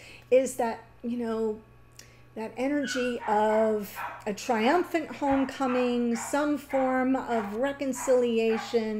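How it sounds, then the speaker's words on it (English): A dog barks and yips in the background while a person talks continuously in the foreground. "pardon the barking dog"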